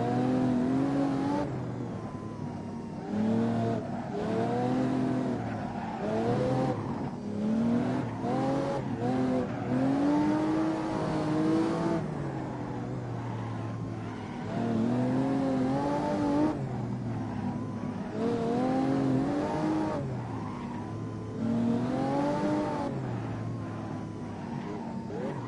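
Ferrari Testarossa 512 engine in the Assetto Corsa racing game, revving hard and rising and falling in pitch through repeated throttle bursts while drifting, with faint tire squeal, loud and continuous without talk.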